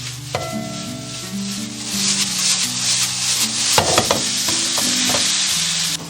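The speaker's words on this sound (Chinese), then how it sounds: "最后我们再下入一点葱花，给它翻拌一下就可以出锅了" Vegetable bun filling with scallions, soy sauce and sesame oil being stir-fried over high heat, a loud continuous sizzle with rubbing, scraping spatula strokes and a few clatters, heard close up with no voices.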